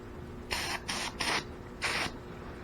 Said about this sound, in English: you turn the can upside down and you spray out that nozzle